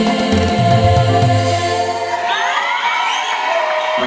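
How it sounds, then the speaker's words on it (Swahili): A crowd cheers for a church choir at its launch event in Namanga. Sustained sung tones fade into loud, lively whoops and high ululating cries from many people. "Asante, makofi mengi sana kwa ajili yao"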